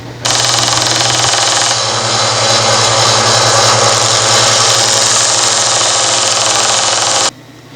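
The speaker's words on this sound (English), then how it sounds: "when you're sanding it's going to look something like this" A belt sander grinds a PVC lightsaber hilt with a loud, steady whir and a constant mechanical hum, running continuously for several seconds before cutting off abruptly.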